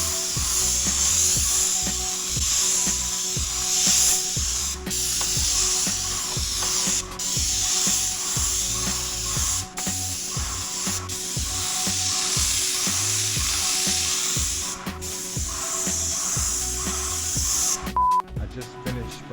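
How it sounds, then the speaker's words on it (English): A steady, loud hiss of a paint spray gun coating a house exterior in Maine runs almost continuously, with brief pauses and a few clicks, plus some low rumbling underneath. "Just finished spraying the backside."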